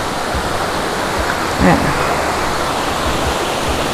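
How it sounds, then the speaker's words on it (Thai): Steady broadband rush of water from a small, shallow waterfall at Wang Kan Lueang, Lopburi, pouring continuously, with a brief louder splash midway. "บริเวณนี้จะเป็นน้ำตกเล็ก ๆนะคะ"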